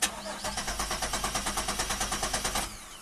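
A Chevrolet Equinox engine cranks over with a steady, rapid chugging of the starter, about twenty even pulses over two seconds, loud and close, before the sound drops away.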